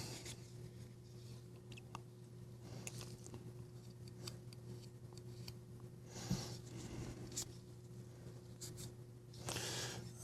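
A We Praxis folding knife, a Kaviso collaboration, snaps through its flipper detent, giving faint, sharp clicks scattered over a quiet background, close up and without speech.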